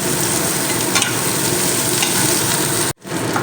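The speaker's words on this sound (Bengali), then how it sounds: "দু থেকে তিন মিনিটের মতন কষিয়ে নেবো তেলের মধ্যে তো গ্যাসের ফ্লেমটা মিডিয়ামে রাখছি" Onion sautéing in oil over a medium gas flame for a Bengali fish recipe, a dense steady sizzle with occasional stirring, loud and close, cut by a brief drop to silence near the end.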